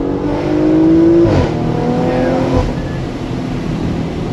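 A Porsche Macan GTS engine revs with its exhaust note, a loud, steady rumble that rises briefly, falls back and keeps droning up close.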